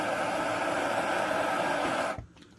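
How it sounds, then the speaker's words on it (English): A blowtorch heating lead for sand casting gives a steady, close roaring hiss that holds evenly and then cuts off abruptly near the end, leaving a faint low thump. "that's going to be enough with the blowtorch."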